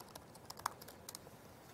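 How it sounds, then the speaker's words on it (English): Faint keystrokes on a computer keyboard click in a sparse, uneven handful, close but quiet with no talking. "I'm typing B"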